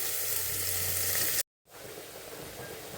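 Boiled jackfruit pieces frying in oil with turmeric over a slow flame, a dense steady sizzle that cuts out for a moment mid-clip and then resumes more softly.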